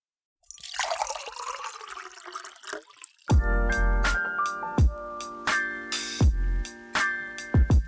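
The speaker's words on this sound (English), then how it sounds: "Pour the coffee." Hot coffee pours in a steady splashing stream for a few seconds, then stops as loud, punchy musical hits take over.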